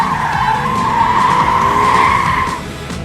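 An RTR Ford Mustang drifting at a drift school, tires squealing in a loud, sustained, wavering screech over engine roar that fades slightly near the end.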